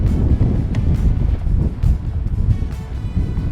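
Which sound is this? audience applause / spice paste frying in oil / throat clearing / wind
wind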